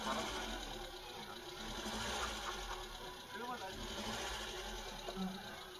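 Volvo Amazon engine idling at low revs at a seaside motor show, a faint, quiet, even ticking hum that stays steady in the background.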